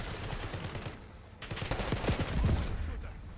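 Rapid bursts of gunfire from a Black Ops 6 match crackle through the whole stretch, dense and fairly loud, swelling toward the end, with a voice talking faintly underneath.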